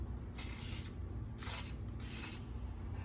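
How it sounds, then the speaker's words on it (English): A Preval sprayer puffs Polycryl coating in three short hissing bursts, each about half a second, separated by brief pauses over a steady low hum. "Now, we're going to spray with the Preval."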